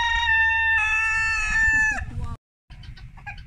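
A rooster crows loudly and close in a backyard chicken coop among Orpington-cross hens, one long sustained crow followed by a brief gap and softer clucking and scratching from the flock.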